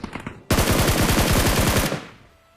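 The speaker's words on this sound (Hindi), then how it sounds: "दूसरे वाले ने तो वेक्टर की पूरी एमो ही खाली कर दी अपनी" Vector submachine gun in a shooter video game firing a long, rapid full-auto burst, loud and close, each shot distinct in a fast steady rhythm before cutting off, a brief tail fading after.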